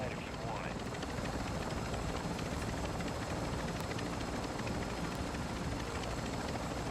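A helicopter flies in the video game Call of Duty DMZ, making a steady, dense rotor drone that fills the scene without letup, with faint voices underneath.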